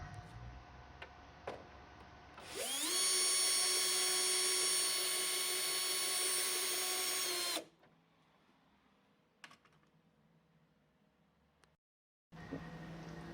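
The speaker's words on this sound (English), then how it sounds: "I'm just drilling the fiberglass that covered the hole out" A power drill whines loudly and steadily for about five seconds drilling through fiberglass on a refrigerator inner door panel, then stops, followed by a few faint clicks and handling noises.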